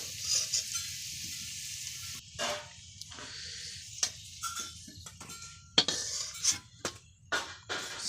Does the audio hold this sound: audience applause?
no